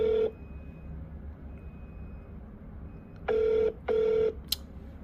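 Calling a convenience store in Ching Ho village: a faint phone line with a brief tone, then two long ringback tones and a short beep, with no one picking up.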